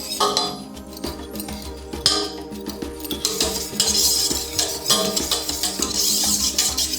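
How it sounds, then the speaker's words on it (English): Egg yolks being stirred vigorously into a cheese soufflé base, with busy clinking of a utensil against a bowl, bright metallic and glassy taps in quick irregular bursts, close and fairly loud, with no voices. "We're going to put them in here one at a time and stir vigorously between each one."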